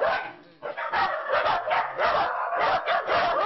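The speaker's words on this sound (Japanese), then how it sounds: "玄関からリビングまで家の中を埋め尽くす多くの犬" Dozens of dogs in an animal-hoarding house holding more than sixty of them bark and yip indoors in a loud, dense, overlapping chorus that never lets up.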